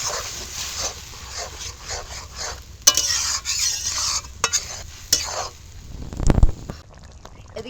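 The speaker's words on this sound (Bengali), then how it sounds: "এবার ঝিঙে যে বেটে রেখেছি সেটা দিয়ে দেবো এবার এটাকে এখন নাড়াচাড়া করতে হবে" A spoon scrapes and stirs ground ridge gourd paste in a pan after the tempering, with soft sizzling underneath. The strokes are faint and repeated, and a louder brief knock comes near the end.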